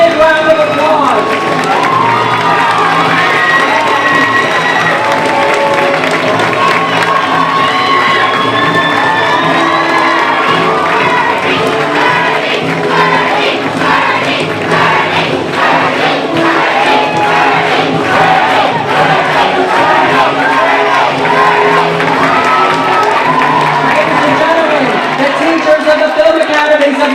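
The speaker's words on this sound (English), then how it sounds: "Let's have a big round of applause." A crowd at a 2014 student film awards ceremony applauds and cheers loudly and continuously for an honoree, with whoops and shouts over sustained clapping.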